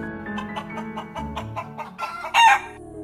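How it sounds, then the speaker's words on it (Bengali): A rooster released from a hold clucks in a rapid run of rhythmic calls that builds into a loud, strained squawk as it bolts away, close and with no voices, as a dramatized effect. "ছাড়া পেয়ে এক ঝটকায় মাটি থেকে লাফিয়ে লাফিয়ে দৌড়াতে লাগলো মোরগটা।"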